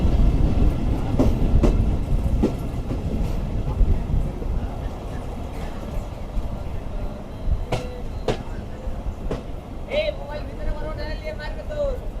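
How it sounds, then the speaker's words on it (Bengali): A Punorvoba Commuter local train rolls into Lalitnagar railway station with loud rumbling and rattling wheels, sharp clacks and a brief squealing tone toward the end, while people talk nearby. "চোদ্দ মিনিট বিলম্বে আমাদের ট্রেন প্রবেশ করছে ললিতনগর রেলওয়ে স্টেশনে"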